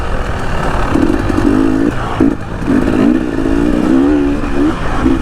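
Motorcycle engine revving hard at full throttle on an off-road trail riding event, a loud close rising and falling engine drone with clattering from the ride mixed in.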